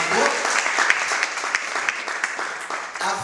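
Church congregation applauding together, a dense steady patter of many hands clapping at close range, continuing for a few seconds with slight swells and dips.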